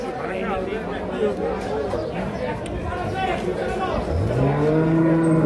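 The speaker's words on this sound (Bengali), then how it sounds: "এখানে একটা আমরা বেশ সুন্দর সাইজের শাহী হলিস্টিন ফ্রিজিয়ান গাভী দেখছিলাম" Holstein Friesian dairy cow at a weekly cattle market moos loudly, a drawn-out low call near the end, heard over nearby people talking and the babble of the crowd.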